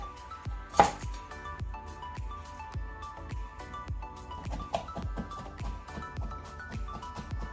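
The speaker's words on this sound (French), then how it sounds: "on émince l'ail comme vous voyez" A knife mincing garlic on a cutting board for a Chinese-style stir-fried noodle dish with vegetables and chicken, giving a steady run of crisp, close chops with one louder knock near the start and no talk.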